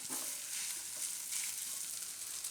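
Ground wheat roasting in ghee in a pan, a steady, close, even sizzle and crackle of frying with faint stirring, no voices over it.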